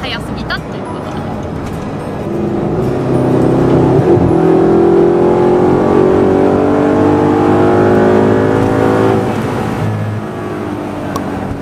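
A sports car, either a Nissan GT-R or an Audi R8, accelerates at full throttle on a straight highway, its engine note rising steadily and loud inside the cabin while people talk over it.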